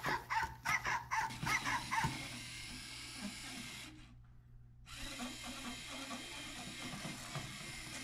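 A LEGO EV3 robot puppy sounds off with a quick run of sharp, buzzy electronic barks close by, followed by a lower steady mechanical whir after a brief gap.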